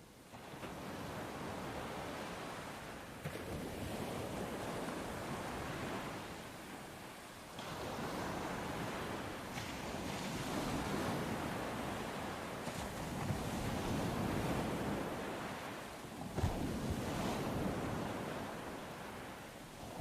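Ocean waves wash onto a long, open beach in a steady, rolling surf that swells and recedes in broad surges, continuous and close, with no voices.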